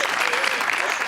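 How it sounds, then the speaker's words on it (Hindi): Brief burst of studio audience applause on a Pakistani television talk show, dense clapping that stays loud and even throughout. "तालियां."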